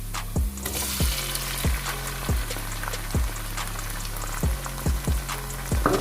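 Tomatoes frying in a pan over browned onions for daal chawal: a steady sizzle broken by regular scraping strokes of a spoon, close and fairly loud, with no voices.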